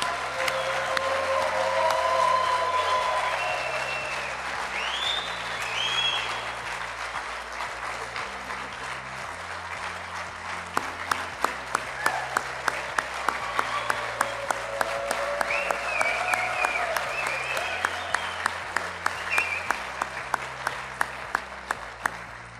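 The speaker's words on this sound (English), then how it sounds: "Let's give one more round of applause for our 2024 Hall of Fame inductees." A banquet audience applauds the 2024 Hall of Fame inductees with a sustained round of clapping that fills the room at moderate volume. Individual sharp claps stand out in the second half, and background music plays beneath the applause.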